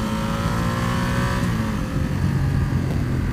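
A 2019 Ducati XDiavel S motorcycle engine revs while being ridden through low-speed turns, a loud, continuous engine drone with small shifts in pitch, close up and without speech.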